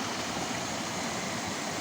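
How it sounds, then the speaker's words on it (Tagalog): Steady broadband rush of spring water flowing out of a pyrite spring, continuous and fairly close with no pauses or voices. "Ay, ito pala yung bukal ng Inatas."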